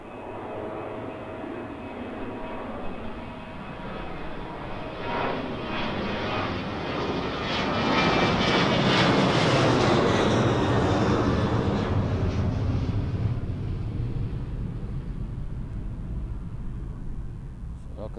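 An airliner departs Birmingham Airport bound for Corfu, its jet engine roar building to a broad loud peak mid-way and then holding steady as the aircraft climbs away.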